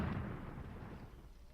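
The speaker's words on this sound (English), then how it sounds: "I don't want my guys to run into that artillery fire" Artillery shelling a forest in the war game Graviteam Tactics: a heavy, rumbling blast that fades into a low, rolling decay over about a second and a half, deep and somewhat distant.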